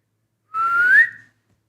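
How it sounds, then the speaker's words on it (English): A single short human whistle rising in pitch, clear and close, sounding slightly breathy and strained from dry lips, alone against silence. "That was a bad whistle."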